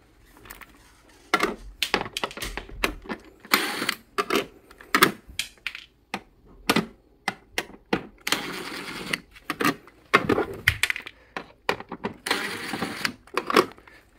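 Side screws come out of an LG Objet stand air conditioner during disassembly, heard as a close series of irregular clicks, taps and plastic rattles with brief pauses between them.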